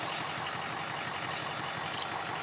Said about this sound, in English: it idles smoothly